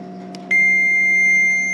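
A multimeter continuity test on the switch of a Delta Shopmaster GR450 8-inch grinder gives a sustained high-pitched beep that starts abruptly partway through, following a brief click, over a faint hum.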